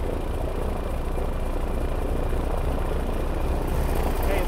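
A Grumman Goose aircraft engine cranks over and starts, producing a loud, continuous droning roar that holds steady for the whole stretch, close and unbroken, with no clear speech over it.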